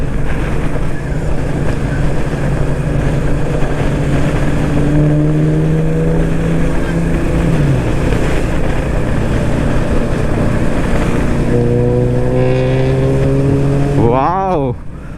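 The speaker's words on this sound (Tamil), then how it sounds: "வாவ், என்ன சவுண்டுங்க, எக்ஸாஸ்ட் சவுண்டு." A modified Skoda Octavia vRS gives a loud, steady exhaust drone with engine tones slowly rising and falling, heard up close alongside road and wind rush; a voice speaks over it near the end.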